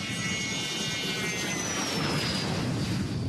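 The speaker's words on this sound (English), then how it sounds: "A generation orbit rocket screaming off the runway during a test flight at Cecil last summer" A Generation Orbit rocket-boosted spacecraft, resembling a G3 jet with a rocket booster, takes off from the runway at Cecil during a summer test flight, giving a loud, continuous roaring rush with a faint rising whine above it.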